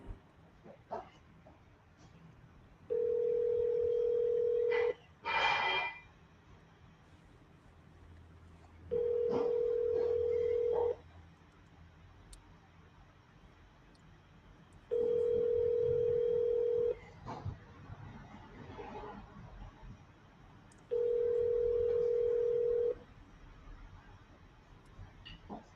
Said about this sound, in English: I'll go ahead and double dial them real quick.